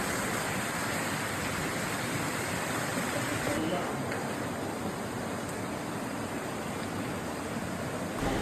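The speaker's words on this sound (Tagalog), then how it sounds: "Walang ingay ng sasakyan, puro lang tilamsik ng tubig at huni ng mga ibon." Steady, dense rush of falling water splashing continuously at Balinarin Falls, loud and close, with no break in the roar.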